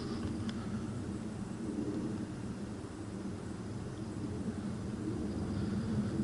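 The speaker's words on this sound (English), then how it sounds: "Yeah, I can still hear cars." Cars pass in the distance near the woods, a faint, steady low rumble of traffic droning continuously with no distinct individual vehicles standing out.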